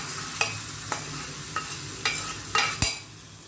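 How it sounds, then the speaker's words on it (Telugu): Tempering with asafoetida stirred into bottle gourd stew, with several sharp clinks and crackling bursts roughly every half second over a steady low sizzle, close and moderately loud. "తగినంత ఇంగు వేసుకొని ఈ పోపుని పులుసులో కలిపేసేయాలి"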